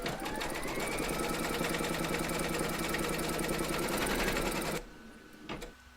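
An embroidery machine stitches the outline of a coaster in a fast, steady, mechanical chatter that runs loud and unbroken for nearly five seconds, then stops abruptly and leaves a few faint clicks.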